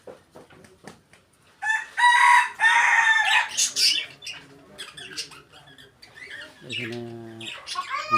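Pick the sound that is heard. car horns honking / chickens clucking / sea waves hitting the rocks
chickens clucking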